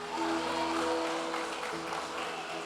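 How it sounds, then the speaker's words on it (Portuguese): Congregation clapping together inside a church during a worship service, a steady dense wash of hands sustained throughout at moderate level, with a voice faintly present beneath. "As palmas para o Senhor"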